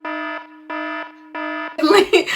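An alarm clock beeps three times in a steady electronic rhythm, loud and close, then a person starts talking.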